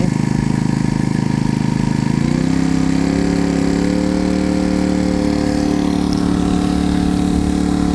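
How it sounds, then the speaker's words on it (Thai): A Wincell four-stroke engine on a watering boat revs up from idle, its steady mechanical drone rising in pitch about two seconds in and then holding a higher, even roar, close and loud throughout. "ลองเร่ง เครื่องดูอีกทีหนึ่ง ว่ากำลังเขาเนี่ย เป็นยังไงบ้างครับ"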